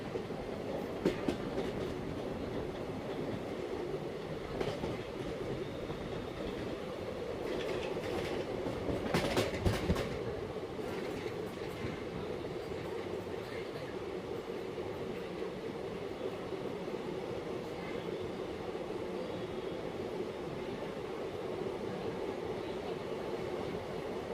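Heard from on board, the Wodeyar Express runs through Jnanabharathi railway station without stopping, a steady low rumble with clickety-clack wheel beats and a brief louder burst of rattling midway.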